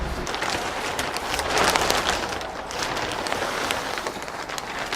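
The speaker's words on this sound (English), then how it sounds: "and then it started raining again" Steady rain falls outdoors over a freshly troweled DIY concrete porch slab, a continuous broadband patter that swells slightly midway and holds at a constant, moderate level with no voices.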